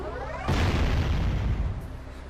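A single deep cannon blast in the Jak and Daxter video game, a sudden loud boom that rumbles and fades over a couple of seconds.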